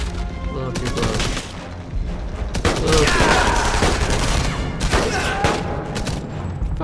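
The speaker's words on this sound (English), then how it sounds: "Oh, that's a nade. That's a nade. That's a nade. Oh god. A little too close." Grenade blasts and rattling gunfire from the video game Enemy Front, a dense, loud battle din with sharp bursts and a heavier boom near the middle, continuing throughout.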